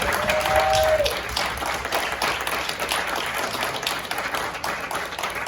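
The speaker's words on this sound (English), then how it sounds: "Another round of applause." An audience at a church youth event applauds steadily for the whole stretch, with dense clapping and crowd noise and a brief whistle near the start.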